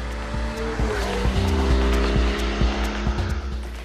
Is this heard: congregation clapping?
no